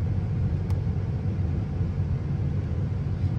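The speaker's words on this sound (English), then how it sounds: "Blower motor." Blower motor of a 1997 Toyota Mark II Grande GX100 running steadily inside the cabin, a continuous low, even fan whoosh and rumble holding at one level throughout, with no talk.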